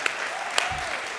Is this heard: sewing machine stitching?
no